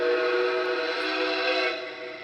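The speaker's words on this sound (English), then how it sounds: "The Nickel Plate Road 765 whistle is one of the best sounding whistles." A sustained, chord-like model steam locomotive whistle modeled on the Nickel Plate Road 765 blows loudly and steadily for a couple of seconds, fading slightly at the end.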